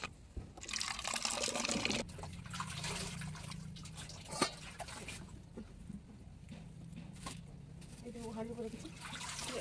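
Water poured from a cooking pot in a home kitchen, splashing and trickling in uneven bursts up close, with a sharper knock of the pot partway through and faint household sounds around it.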